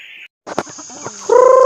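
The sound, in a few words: chickens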